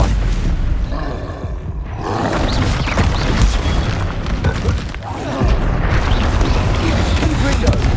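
Fire blast spells go off in Hogwarts Legacy combat, heavy rumbling booms and roaring bursts over about eight seconds, with a short lull near the middle and again near five seconds.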